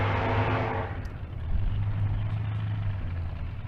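An LT4-powered 2023 Camaro ZL1 at a drag race at Bandimere, its engine roaring loudly at first and then settling into a steady rumble that fades slightly in the distance.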